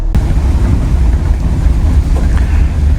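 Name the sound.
25-year-old Tiffin Zephyr RV being driven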